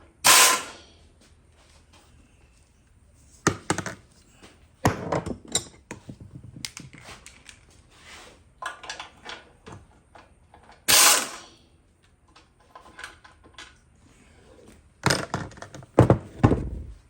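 A ratchet clicks in short bursts while a lawn mower carburetor is unbolted, separated by quiet gaps, metallic clunks and handling noises, close by with no voices.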